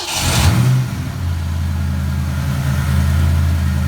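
A Fox Body Mustang 5.0 V8 cranks, fires up and settles into a loud, steady idle with a brief rev as it catches, heard up close.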